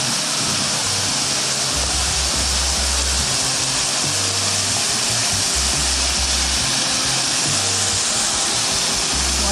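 Ribbon Falls in the Grand Canyon pours as a loud, steady, broadband roar of falling water heard up close, constant throughout with no voices.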